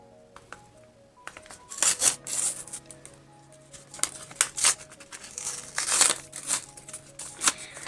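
A crinkly plastic packet with a perforated edge is handled and opened up close, giving bursts of crackling and rustling over a quiet background with a faint tonal hum.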